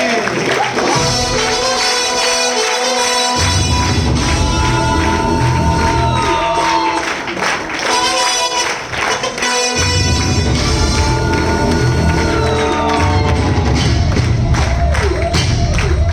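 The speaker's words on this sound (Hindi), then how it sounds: "एक बार जोरदार तालियों से उनका स्वागत करें" Audience applause and cheering fill a hall as a speaker is welcomed onto a stage, a dense, loud, continuous wash of clapping with whoops and music underneath.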